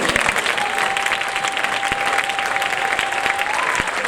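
Loud, dense applause from a congregation at a French-language church conference, continuous clapping filling the whole four seconds, with a faint steady tone sustained underneath.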